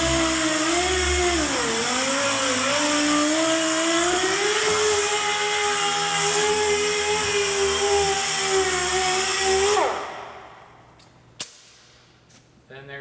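A handheld polishing machine runs steadily while applying wax, a loud continuous whirring motor with a slight dip in pitch early on, then winding down and stopping near the end, followed by a couple of faint knocks.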